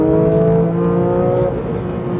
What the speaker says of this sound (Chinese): 原厂排气就要比上一代的 GT3 来得更加的响了